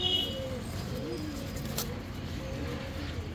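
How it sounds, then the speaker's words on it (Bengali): Fancy pigeons of an improved breed cooing softly in a loft, low soft coos repeating throughout under steady background murmur, with a faint brief chirp midway. "কবুতরটা নিঃসন্দেহে ভালো আছে"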